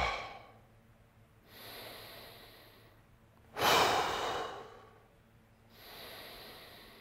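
Slow, deep breathing during a seated yoga session, with quiet inhales and one louder, forceful exhale in the middle, close and alone without talk.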